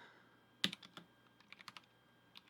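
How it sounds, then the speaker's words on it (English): Typing on an RK Royal Kludge RK89 85% hot-swappable mechanical keyboard, a quick run of sharp key clacks with one louder strike near the start, then scattered lighter presses, close up and quiet with no talk. "I have it connected to the RK89 keyboard, which is this here."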